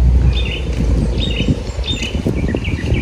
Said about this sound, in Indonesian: dengar suara kicauan burung